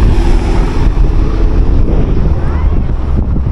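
Seaside wind at Katara in Qatar roars loudly and continuously across the microphone, a steady buffeting rush with a faint watery wash beneath it.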